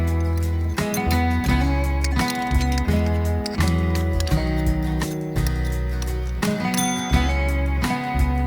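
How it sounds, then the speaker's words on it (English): A bicycle bell rings repeatedly over a sustained, bright tonal background, with rapid metallic trills recurring throughout at steady loudness. "how to improvise an alarm signal using a bicycle bell"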